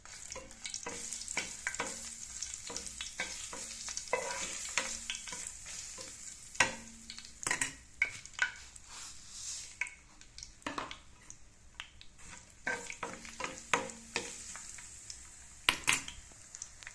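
Mustard and cumin seeds fry in foaming peanut oil for a raw mango pickle, a quiet continuous sizzle with scattered sharp pops and occasional clinks of a spoon against the pan, close and without speech.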